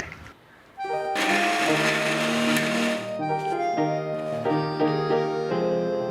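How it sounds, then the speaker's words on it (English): Blender whirring as it purées coriander, green chilli and yogurt into a smooth paste, a steady loud motor roar after a brief quiet start, pitch shifting slightly as the mixture thickens. "Blend this into a smooth paste."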